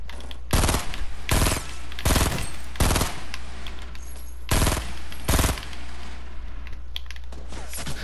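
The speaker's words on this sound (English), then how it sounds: "Why am I getting shot by 7 people?" Bursts of gunfire in Fortnite: Battle Royale, six loud, close shots spaced roughly a second apart, each sharp and broadband, over a steady low hum and faint background clatter; no talking.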